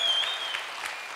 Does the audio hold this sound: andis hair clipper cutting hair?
no